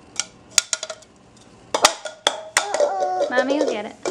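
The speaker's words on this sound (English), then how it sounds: "You gonna give it a stir now?" A spoon clinks against a bowl while powdered sugar is stirred into a baking mixture at home, giving a few scattered taps and then denser scraping clatter. A child's and an adult's voices are heard over it.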